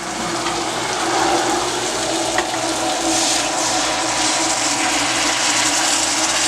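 Hot water runs into a cooking pot on a stove while fried rice and steamed fish are being made, a steady, fairly loud broadband pouring rush lasting the whole stretch, with no talk over it.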